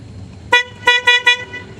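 Horn of an electric buggy car honks four times, loud and close: one blast, a short pause, then three quick toots in a row, bright and bus-like, over quiet background.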